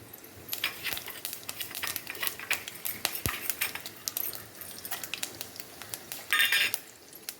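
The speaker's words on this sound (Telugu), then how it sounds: "నూనె వేడైంది, వేసేసుకుందాం తాలింపు గింజలు" Tempering seeds crackle and pop sharply in heated oil in a home kitchen, with scattered spits and a few metallic utensil clinks, fairly close.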